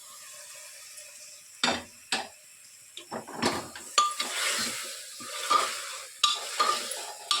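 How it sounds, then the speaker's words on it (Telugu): Washed chicken goes into sizzling ginger paste: a quiet start, then bursts of scraping and clattering as the pieces are added and moved, followed by a rising, steady hiss of frying. "అల్లం పేస్ట్ బాగా ఫ్రై అయిన తర్వాత మనం ముందుగా శుభ్రంగా కడిగి పెట్టుకున్నటువంటి చికెన్ని వేసుకుంటున్నాను"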